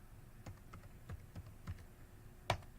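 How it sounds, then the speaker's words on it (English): Keystrokes on a laptop keyboard as a command is typed, about eight separate taps spaced unevenly, ending with one harder press like the Enter key, close and fairly quiet. "next you type in ipconfig"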